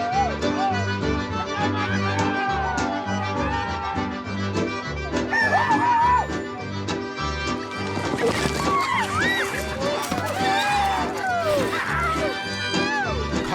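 Chickens and a rooster crowing and clucking amid a loud, boisterous party, heard over dense music and overlapping chatter throughout, with the birds' calls popping through the crowded mix.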